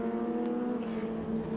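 A vintage Echidna race car at Circuit of the Americas, its engine droning loudly with steady harmonic tones as it passes by, the pitch shifting slightly as it works through the gears.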